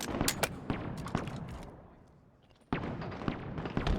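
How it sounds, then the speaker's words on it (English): Gunshots in a competitive Halo match come as a rapid burst of sharp cracks, fade briefly, then start again in a fresh volley. No talk is heard. "Shots coming in from Cykul again onto Formal"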